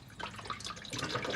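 Engine oil dripping and trickling from a spun-off oil filter on a four-cylinder Honda Accord, a quiet, steady run of small wet drips and splashes close by, with no talk.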